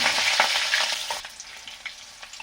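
Laphu greens and onion fry in a pan with a bright, steady sizzle that is louder at first and then settles into a quieter crackle, with soft stirring and no talk.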